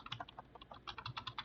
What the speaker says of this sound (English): you simply type in the full path of your domain controller,